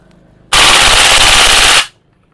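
A VFC Maruyama gas blowback airsoft rifle fires on full auto in one loud, close burst of about a second and a half of rapid shots, with quiet before and after.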